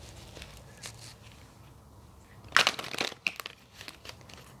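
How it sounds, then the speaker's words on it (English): Oracle cards from a Power of Love deck are handled and drawn, giving a burst of dry crinkly card and paper rustling in the middle and a few softer shuffles after it, all fairly close, with no voices. "Let's get a couple more oracle cards"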